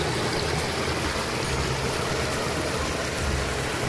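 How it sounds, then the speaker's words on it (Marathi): Stream water flows through Sandhan Valley in a continuous broadband rush, loud and close, with no voices over it. "असे पाणी वाहते"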